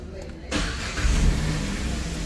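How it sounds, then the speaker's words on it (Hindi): A 2024 Renault KWID top-model car starts up close by. After a brief quiet moment, the engine cranks and catches, then settles into a steady, moderate idle. "एक बार मैं आपको स्टार्ट करके दिखाता हूँ गाड़ी"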